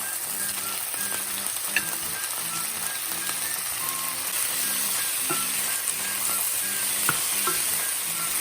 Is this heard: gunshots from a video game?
no